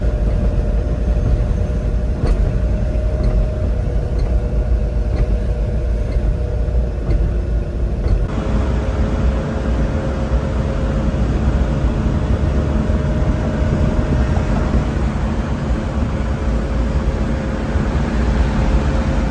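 Inside a Daihatsu HiJet mini truck with a fuel leak, a loud, steady engine and road rumble fills the cab as it drives, with the texture shifting slightly partway through.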